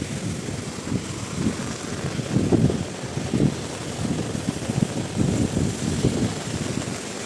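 Strong gusty wind buffeting a microphone outdoors on a walk, loud rumbling low roars that swell and surge in uneven bursts, continuous with no speech.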